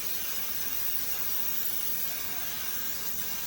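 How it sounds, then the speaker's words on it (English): A steady hiss of cooking spray coating a baking dish, continuous and close, with no talking. "I'm going to spray my dish."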